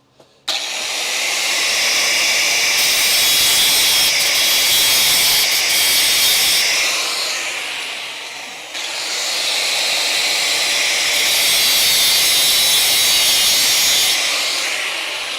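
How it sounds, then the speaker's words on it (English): An angle grinder's cutting wheel trims the edge of a steel frame rail tab for a crew cab Charger build, giving two long, loud, close, hissing whines separated by a short pause. "Cutting wheel, real quick."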